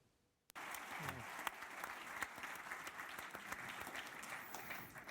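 Applause from a conference audience following a finance minister's speech at a panel, bursting in abruptly after a moment of near silence and continuing as a thick, even wash of clapping.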